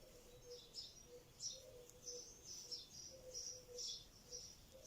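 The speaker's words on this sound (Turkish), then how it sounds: "Bu arada umarım kuş sesleri de size geliyordur." Birds chirping steadily in the distance, repeated high tweets over a soft, constant outdoor background.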